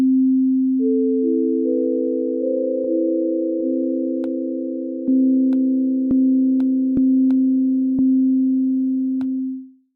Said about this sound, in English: the basic default oscillator is just a sine wave